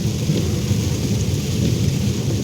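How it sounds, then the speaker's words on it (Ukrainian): Steady rain falls while a car drives into the village of Obukhovychi, Ukraine, giving a constant, dense wash of patter with a low rumble underneath and no voices. "Дощить трохи."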